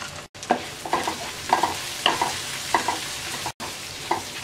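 Chopped onion and garlic fry lightly in a pan with a low sizzle, broken by repeated spatula scrapes and taps in an uneven stirring rhythm, close and moderately loud.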